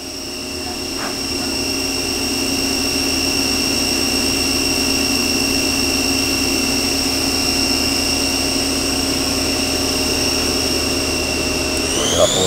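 A 1996 YCM Supermax 4-axis CNC vertical machining center spindle spins steadily at high RPM, giving a loud, continuous whine with strong sustained tones that rise slightly in pitch near the end.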